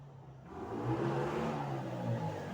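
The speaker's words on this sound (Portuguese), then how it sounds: "Deixa eu passar o abençoado da moto barulhenta." A noisy motorcycle passing by, its engine rising out of quiet into a fairly faint, distant drone that swells and stays steady.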